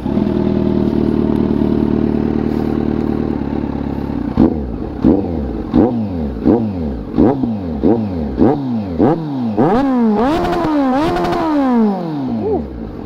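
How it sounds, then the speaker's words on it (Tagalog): A Kawasaki Z900 SE motorcycle fitted with an Orion dual pipe exhaust idles loudly, then revs repeatedly in quick rising and falling blips, building to longer, higher revs near the end. "Yan ang ating Orion dual pipe kay Z9. Sige, ano tayo, sound check tayo."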